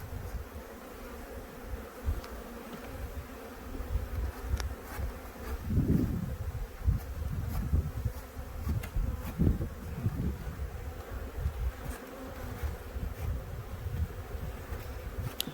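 Honeybees buzz in a dense, continuous drone during a beekeeping nuc transfer, with some insects swelling louder as they pass close by.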